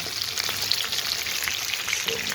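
Semolina-coated fish frying in a pan on a tin stove, a steady close crackling sizzle with small bursts, no voices.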